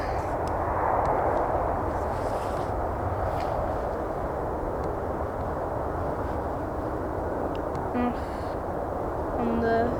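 An airliner departing Manchester Airport on a flight to Dubai gives a steady, broad engine roar that holds strong throughout, with someone talking over it.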